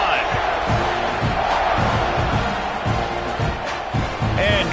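Football stadium crowd roaring at a kickoff, a dense, loud wash of cheering and whooping filling the space, with a commentator's voice faintly over it.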